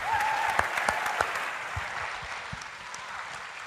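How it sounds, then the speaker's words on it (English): Audience at a science debate applauds the panel in a brief, moderately loud round of clapping that fades slightly toward the end. "give us one last round of applause for the panel."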